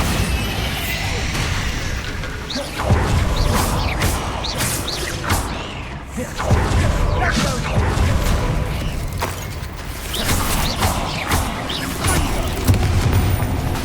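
Bombarda spell blasts in the combat game Hogwarts Legacy, repeated heavy booms and crashes with whooshes in a dense, continuous battle mix of spells and impacts.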